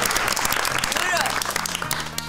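A studio audience applauds on a Turkish television show, a dense wash of clapping held for a couple of seconds with a host's voice talking over it.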